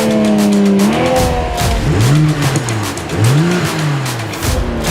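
A BMW M240i and M340i race side by side, engines revving hard with rising and falling pitch sweeps as they shift gears, loud and close, with tire noise throughout.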